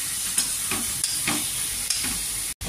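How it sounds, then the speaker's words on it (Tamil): Onions and tomatoes sautéing in a pan for breakfast, stirred with a few soft scraping strokes over a steady close sizzle, with no talking. "அதனால் இப்போ எதையும் போட்டு கொஞ்சம் நல்லா கிளறுவோம்."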